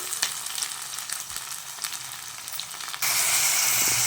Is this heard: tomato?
yes